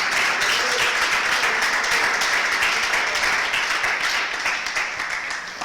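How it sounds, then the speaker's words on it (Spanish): Church congregation applauding at a Spanish-language sermon, a loud sustained wash of many hands clapping together that holds steady for several seconds and eases slightly toward the end, with no talking over it. "¿Cuántos le pueden regalar unos premios de palmas?"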